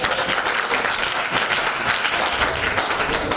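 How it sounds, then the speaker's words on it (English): A crowd at a panel discussion event gives a round of applause, dense and continuous clapping at a fairly loud, steady level throughout the short stretch, with no talking over it. "They deserve a round of applause."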